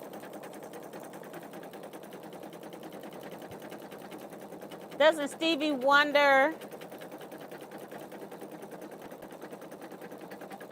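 Pfaff Creative Vision embroidery machine stitching in brief rapid bursts under steady background talk, the rhythmic whirring clearest for about a second and a half in the middle.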